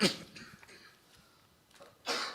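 A single cough from a preacher at the start, then quiet, followed by a harsher breathy burst at the end, close to the microphone.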